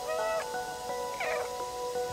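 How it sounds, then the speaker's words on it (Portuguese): A cat in the video game Stray meows several times in short, tonal calls over a steady soft background ambience, fairly close and without talk. "Eu vou andar por aí miando"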